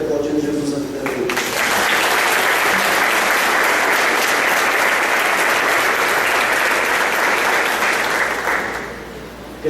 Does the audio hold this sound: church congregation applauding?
yes